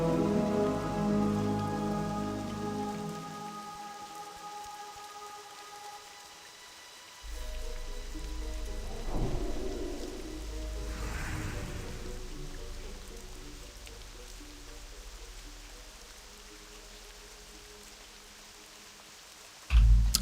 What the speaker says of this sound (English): it was raining in Desolace, and it's still raining.